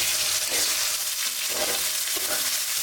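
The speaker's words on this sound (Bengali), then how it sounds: "আদা বাটা রসুন বাটাকে ভালোভাবে কষিয়ে নেব" Ginger and garlic paste fries in hot oil with whole cloves, cardamom and cinnamon, giving a dense, loud, continuous sizzle with a few soft scraping stirs, close up and without talk.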